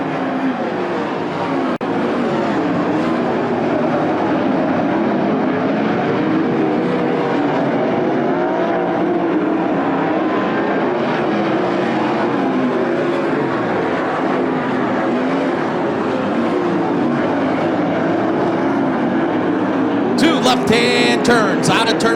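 410 sprint cars race a heat at Attica Raceway Park, their engines roaring continuously, rising and falling as the pack circles the dirt oval, heard from trackside without clear talk.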